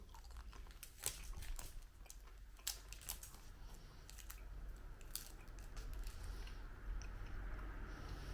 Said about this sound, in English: Finally, let's try this chewing gum.